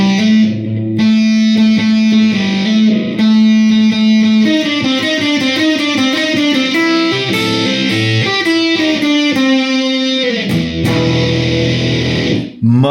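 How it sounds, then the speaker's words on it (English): An electric guitar through an Abominable Electronics Demon Lung fuzz pedal on its heavier setting plays a chunky, sustained riff with thick buzzing overtones, loud and steady throughout. "Much heavier on the distortion on the purple side"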